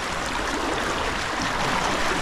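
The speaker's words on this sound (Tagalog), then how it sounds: "Ayan o, ang bilis po ng agos nito." Fast current of a river rushing steadily as people wade across it, a continuous broadband wash with no clear talk, loud and close throughout.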